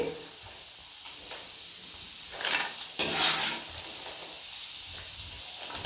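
Homemade mixture snack frying in hot oil, a soft continuous sizzle and hiss with a burst of louder crackling and popping partway through, close by, with faint clinks of a utensil and no talking.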